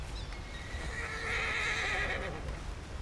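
A horse in Red Dead Redemption 2 whinnies loudly in a long rising-and-falling call, with faint hoof clops and a low background rumble.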